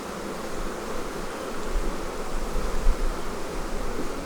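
Honeybees pour out of an open hive, a dense, close buzzing swarm hum that swells steadily and fills the whole stretch without talk.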